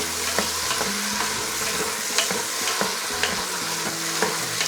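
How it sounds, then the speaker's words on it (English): Tomato chunks hit hot oil in a pan for a braised beef stew, producing a steady, close sizzle with repeated clacks and scrapes of a spatula stirring, with no one speaking. "now we are putting in the tomato chunks"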